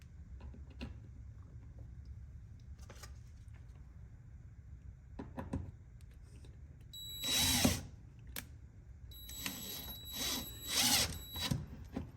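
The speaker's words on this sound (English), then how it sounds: "then I just have to drill the screws in" A power drill drives screws while fitting a front lip to a Honda S2000, whirring in several short bursts, with a longer run and then quick pulses, amid scattered clicks and handling noises.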